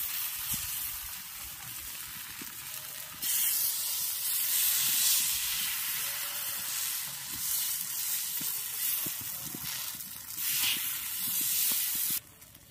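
Vegetable flatbread batter spread into an oiled pan sizzles loudly and steadily, a bright close hiss that swells and fades as it is worked with a spatula, with no talk.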